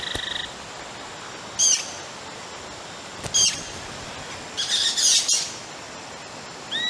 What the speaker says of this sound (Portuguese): os pássaros se reúnem no alto das árvores, como um bando de tiribas de orelha branca